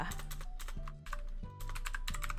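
Fast, close typing on a computer keyboard during work in an Excel spreadsheet, with steady clattering keystrokes in quick clusters and brief pauses over a low constant hum.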